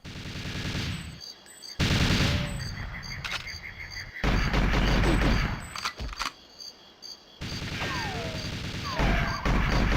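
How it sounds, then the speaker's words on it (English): AR-33 and RCP-90 gunfire in GoldenEye 007 on Switch 2: loud bursts of rapid automatic shots with crashing impacts, cut by short silent gaps, with no talk over the shooting. "Like the AR-33 and the RCP-90 shooting."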